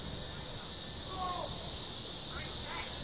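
A dense cicada swarm in Nashville fills the air with a loud, unbroken high-pitched drone, close and constant, with a few faint chirps or squeaks beneath it.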